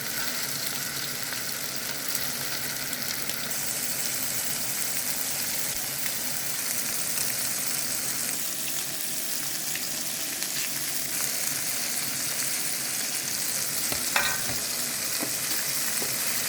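Steady, dense sizzling of chicken fillet frying in a pan, continuous and close, with occasional soft scrapes of stirring and no voices.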